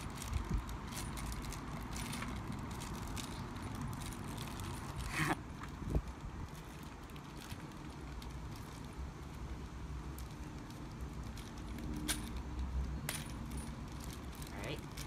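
Small metal screws for a heavy-duty lockable outdoor storage cabinet rattle and clink as a package is opened and handled, with scattered light clicks and jingles close by over steady room noise and one louder knock.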